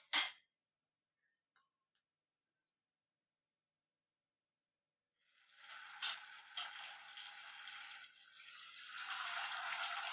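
A second batch of chicken pieces goes into hot oil for frying. After a few quiet seconds with a faint clink, a steady sizzle starts, rising and hissing with a couple of louder pops.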